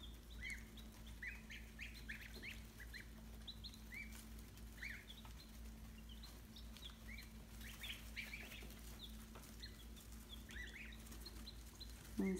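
A flock of young geese peep and chirp repeatedly, close by, over a low steady hum and rustling in a brooder pen.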